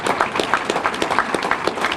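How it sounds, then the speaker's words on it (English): Brief burst of crowd applause at a September 11 remembrance ceremony in New Bedford, many hands clapping in a dense, lively patter at moderate distance, with no voices over it. "You can applaud after each name."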